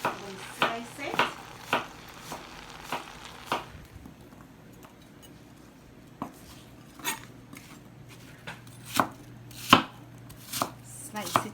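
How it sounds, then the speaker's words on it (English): An apple half sliced with a knife on a board, a run of crisp, evenly spaced chopping taps up close, pausing briefly before the cuts resume at a slightly uneven pace. "I'm going to slice it."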